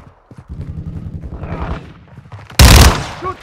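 A short burst of automatic gunfire from Call of Duty: Modern Warfare II rips out loud and close after some low rumbling combat noise, ending in a brief ringing tail.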